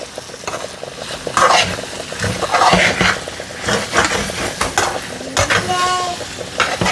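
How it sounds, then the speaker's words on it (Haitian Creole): Rice and Congo beans frying in a pot for Haitian diri kole, a dense crackling sizzle with stirring scrapes and clinks of a utensil against the pot, steady and close with no talk. "Il est bien frit."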